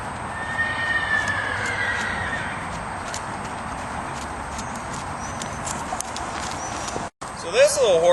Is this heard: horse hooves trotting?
yes